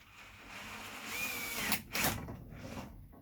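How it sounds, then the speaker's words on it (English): A power drill whirs close by with a rising whine, then brief bursts as the bit bites into a busbar for a DIY powerwall battery pack, ending after a few seconds. "so I'm just gonna drill it"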